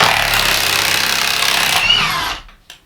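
A Milwaukee M18 Fuel half-inch mid-torque impact wrench with friction ring hammers loose a bolt, a loud continuous rattling burst for over two seconds that stops abruptly, followed by a brief clack.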